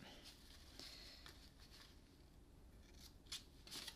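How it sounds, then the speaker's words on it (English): Quiet snips of scissors angle-cutting the ends of a ribbon on a heart-shaped fancy fold card, a few crisp close cuts near the end over faint rustling, no talking. "you can bring in your scissors and just angle cut the ends of the ribbon a little bit"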